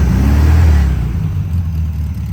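Air-cooled VW Beetle engine running just after a cold start: a loud, close, steady low mechanical drone that eases slightly after the first second, with no talking.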